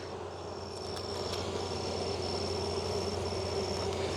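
Honey bees hum around a small hive during a late-August inspection, a steady, even drone that holds for the whole stretch, with a faint high whine running above it.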